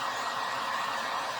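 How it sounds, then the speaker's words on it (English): A heat gun blows hot air over a patriotic red, white and blue bouquet, a steady, close, broadband whoosh that holds at an even level throughout. "I'm using a heat gun to dry this."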